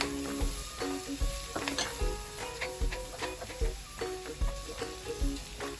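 Garlic sizzles in melted butter in a pan, a close, steady crackling hiss broken by regular scraping stirs with a utensil.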